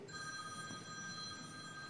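Telephone bell ringing as a sound effect at a public lecture on the environment, a steady electronic ring carrying on across the clip with no talk over it.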